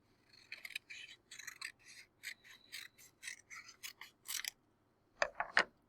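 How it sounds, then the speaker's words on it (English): Scissors snip through paper in a quick run of crisp cuts, then a short pause before a few louder final snips close by. "just take my scissors and start cutting."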